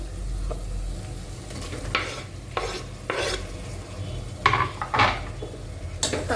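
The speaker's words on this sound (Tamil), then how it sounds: "இஞ்சி பூண்டு பேஸ்ட் சேர்த்து நல்லா பச்சை வாசனை போகிற வரையும் வதக்கிட்டு அப்புறம் தக்காளி ஆட் பண்ணுங்க" A spoon stirs and scrapes ginger garlic paste in a pan for mutton biryani, with several close clinks and scrapes over a soft, steady sizzle.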